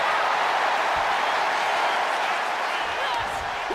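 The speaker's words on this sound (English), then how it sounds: "Listen to this crowd driving these competitors to leave everything out in the ring." A crowd at a WWE live wrestling event roars with a constant, slightly distant wash of cheering and noise that fills the arena without a break.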